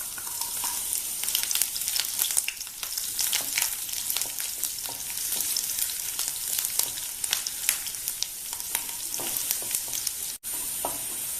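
Ginger and garlic sizzle in hot coconut oil with popped mustard seeds in a pan for a Kerala-style red belly fish curry, giving a dense, close, continuous crackle with scattered pops and occasional stirring scrapes.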